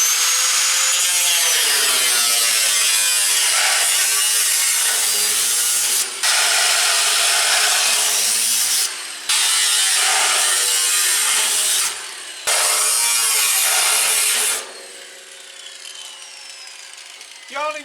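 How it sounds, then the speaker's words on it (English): Angle grinder with a cutting blade slicing air vents into a metal burn barrel, a loud, harsh high-pitched whine in long continuous cuts broken by brief pauses, fading to quieter spin-down near the end, with a voice talking briefly. "I just use my cutting blade on my grinder"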